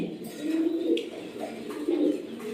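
Domestic running pigeons in a loft, one pair sitting on eggs, giving soft, low, rolling coos in repeated bursts close by, with no talk over them.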